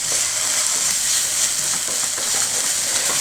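Loud, steady sizzling of tomato paste frying in a hot pan, a dense crackling hiss throughout with faint stirring scrapes.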